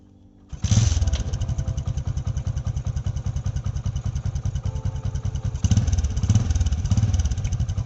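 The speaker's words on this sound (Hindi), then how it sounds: "हम अब स्टार्ट करने लगे हैं बाइक ओरिजिनल सिलेंसर के साथ।" A Bajaj CT 100 motorcycle engine with its original silencer starts up and settles into a steady, loud, rhythmic thumping idle, with a brief surge in the middle before idling on.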